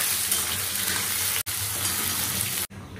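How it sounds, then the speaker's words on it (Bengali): Potatoes frying in oil in a pan at home, a steady loud sizzle with continuous crackling throughout, briefly cut off twice. "প্রথমে আলু ভাজাটা চাপাবো।"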